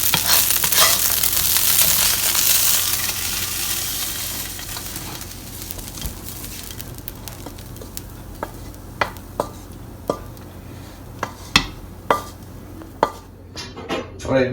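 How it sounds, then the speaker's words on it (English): Browned ground beef for Mexican-style tacos being spooned from a pan into a bowl: a fading sizzle early on, then a run of sharp metallic scrapes and clinks of a utensil against cookware. "so now we're going to set aside our brown beef into a bowl"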